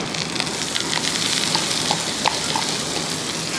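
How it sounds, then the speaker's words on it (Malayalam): Onion added to a frying pan and stirred, giving a steady close sizzle of frying with faint scraping of the spoon throughout, no talking. "ആ സവാള കൂടെ ഇതിൻ്റെ കൂട്ടത്തിൽ ഇട്ട് കൊടുക്കും"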